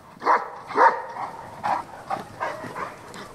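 Livestock guardian dogs protecting sheep from wolves on a Lower Saxony meadow bark repeatedly, with two sharp, loud barks up front followed by several lighter, slightly more distant yips in an uneven rhythm.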